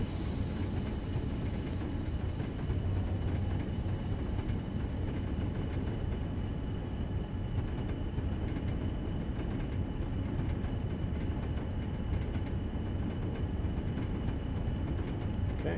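A BR Class 40 diesel train in Train Sim World rolls downhill with a constant loud rumble of engine and wheels on rail, a steady drone that barely changes throughout.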